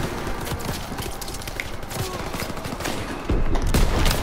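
Rapid gunfire from Call of Duty: WWII, a dense, continuous barrage of overlapping shots that swells louder near the end, with no talking.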